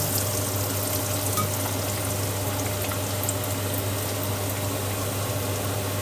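Chicken pieces deep-frying in hot oil for a crispy fried chicken batch, a dense, steady sizzle with a low constant hum underneath, unbroken and close throughout.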